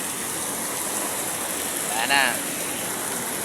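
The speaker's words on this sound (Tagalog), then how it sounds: "Puro ulan. Ulan, baha." Heavy rain pours in a steady, loud, broadband hiss throughout, and a brief spoken phrase rises over it near the middle.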